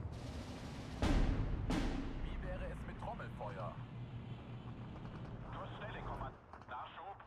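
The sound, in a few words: mortar and gunfire in Steel Division 2 video game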